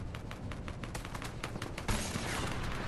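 AK rifle fire in Fortnite, rapid close shots in a steady stream, with a heavier burst of gunfire near the end, with no voices.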